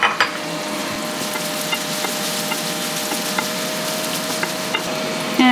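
Butter sizzling in a frying pan for biscuits and sausage gravy, a constant dense crackling hiss, fairly loud and close, with a few faint ticks and pops and no talking.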